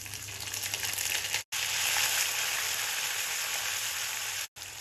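Onion paste hits hot oil with bay leaf and whole cumin while chicken skin is being cooked, producing a loud, dense, close sizzle broken by two short abrupt silences.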